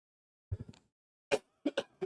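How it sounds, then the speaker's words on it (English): Several short, sharp coughs, one burst followed by a pause and then three quick coughs close to the microphone, with no talking. "Sorry, I still have this cough from a while ago."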